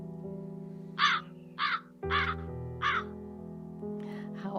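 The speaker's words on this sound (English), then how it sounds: "How awesome is that sound? It's a raven." A raven caws four times in a slow, evenly spaced series of harsh, rasping calls, with a fainter fifth call at the end, all over a steady low tonal hum.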